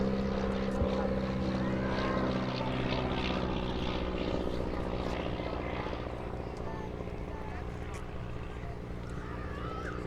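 An Auster AOP.6 propeller aircraft, TW536, flies a display at the Midlands Air Festival 2023, its steady droning engine and propeller hum holding throughout at moderate distance while a voice talks over it.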